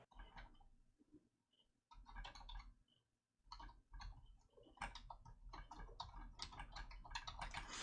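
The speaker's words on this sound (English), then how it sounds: "I was typing in the chat" Rapid, irregular typing on a computer keyboard during an online open panel chat, clicking in quick bursts with brief pauses, close and moderately loud.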